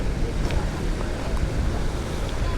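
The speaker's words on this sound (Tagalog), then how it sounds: "Tapos umaagos dito. Oh dumediretso doon sa sa ilog yan" Water flows along toward a river near Laur, Nueva Ecija, heard as a steady close rushing wash mixed with wind buffeting the microphone, with no talk over it.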